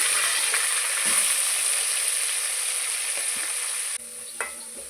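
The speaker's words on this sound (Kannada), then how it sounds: "ಹಾಕ್ಕೊಂಡು ಚೆನ್ನಾಗಿ ಫ್ರೈ ಮಾಡಿ" Curry leaves and chopped onion fry in a pan with a steady, bright hiss close by, broken by a few soft utensil knocks and a brief dip as the sizzle settles near the end.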